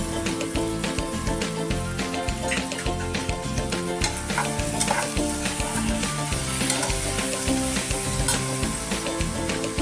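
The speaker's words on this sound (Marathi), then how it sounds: "त्यासाठी तेल टाकून कांदा परतायला लावतो." Onion fries in oil in a pot for pithla, a home-style village dish, with a loud, steady sizzle and occasional stirring scrapes throughout and no talking.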